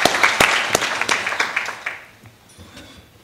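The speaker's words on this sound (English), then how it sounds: "Please, let's give a round of applause to Richard." An audience at a conference claps in a brief burst of applause, sharp and dense at first, then thinning out and fading away within a few seconds.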